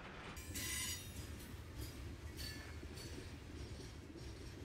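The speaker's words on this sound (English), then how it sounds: "We find Cardinal number 51 as it passes the end of that eastbound coal train" An Amtrak Cardinal passenger train rumbles past at moderate distance, wheels clattering steadily with a few sharp bursts of high metallic squeal. No voices.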